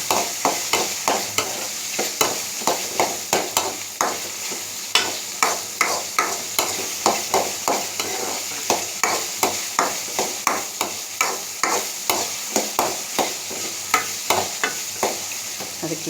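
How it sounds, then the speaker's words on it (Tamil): Vegetables sautéing with salt in a pan for a karakuzhambu, a soft continuous sizzle under a steady, rhythmic series of spatula scrapes and stirs, close and moderately loud. "வதக்கிட்டே இருக்கேன்."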